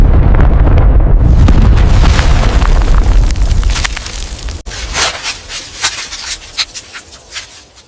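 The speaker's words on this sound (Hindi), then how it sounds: "धमाके की इंटेंसिटी इतनी ज़्यादा थी कि उसकी आवाज़ कई दूर किलोमीटर तक गूंजी।" A massive, loud explosion of a vehicle striking a convoy bus booms and rumbles, decaying over several seconds into crackling and scattered popping debris.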